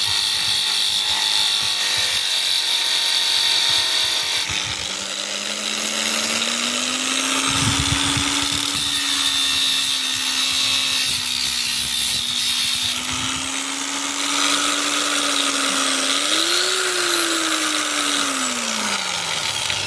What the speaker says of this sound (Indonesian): Untuk memotong pipa tidak perlu memakai kecepatan tinggi ya